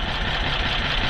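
Engine of a Toro Workman utility vehicle with a troublesome carburettor, running steadily with an even, continuous low rumble, close and fairly loud, no voices.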